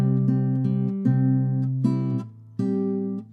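Two short measures of a beginner classical guitar exercise from Julio Sagreras' first lessons, played solo on nylon strings: steady plucked single notes and sustained bass tones, close and clear, with brief gaps between phrases and no talking.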